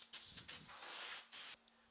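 Water-based polyurethane finish sprayed onto wooden trays on a shop-made Lazy Susan, heard as four close hissing spray bursts, short at first and then longer, with quiet gaps between them.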